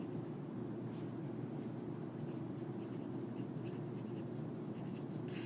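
Pen or marker strokes scratching across a writing surface in a quiet lecture setting, a steady run of faint, short scrapes over a constant low background hum, with no one talking.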